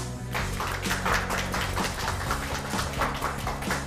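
An audience applauds to welcome a guest onto a lecture-show stage: dense, steady clapping that lasts throughout, mixed with music.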